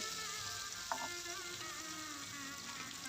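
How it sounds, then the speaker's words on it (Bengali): Dried loitta fish fries in oil, giving a steady close sizzle and crackle throughout with one brief clink near the start. "এখন আমি তো তেলে দিয়ে দিলাম এভাবে আস্তে আস্তে ভেজে নেব মাছটা"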